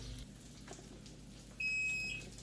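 A single shrill electronic beep from a smoke alarm sounds near the end, during cooking, a high steady tone over a quiet background.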